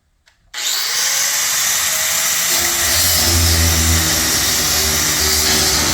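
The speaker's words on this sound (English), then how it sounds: "just doing a little grinding here so that they can do a proper weld" An angle grinder bites into metal to flatten a weld area on a floor installation, a loud steady high-pitched grinding whine that starts abruptly and holds for several seconds, close and alone.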